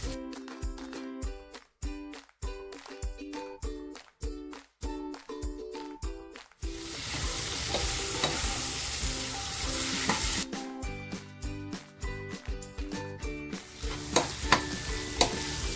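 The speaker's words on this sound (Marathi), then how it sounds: "वजरी आता छान फ्राय झालेली आहे" Vajri meat frying in masala in a pan for a homestyle vajri pulao, with a rhythmic run of spoon scrapes and stirring knocks, then a steady loud sizzle, and later more scraping strokes over continuing frying.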